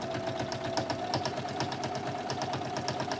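A sewing machine runs steadily, stitching a fabric face mask with red thread along the edge, the needle spaced about a presser-foot width from the edge. Its rapid, even mechanical chatter stays close and continuous throughout.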